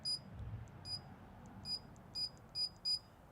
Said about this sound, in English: I do like that there's an audible beep.